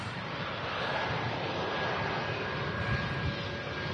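A Ryanair Boeing 737 MAX 8200 touching down at Manchester Airport gives a steady, loud jet engine roar with a broad rushing noise that holds evenly throughout, with no voices.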